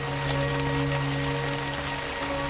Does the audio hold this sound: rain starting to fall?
yes